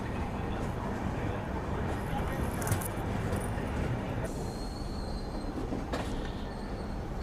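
The Mahanagri Express pulls out of Katni Junction, a broad steady rumble of rolling train wheels with faint high squeals and clicks over the tracks, continuous throughout.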